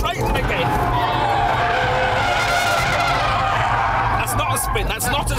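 Sports car tires skidding loudly as the car slides in an attempted spin on a track, an Audi R8 or Porsche 911, with a steady roaring engine and tire noise throughout and voices talking over it.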